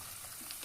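Curry leaves frying in hot oil while cooking a large pot of pepper venpongal, giving a brief, faint, steady sizzle with soft crackles and no voices.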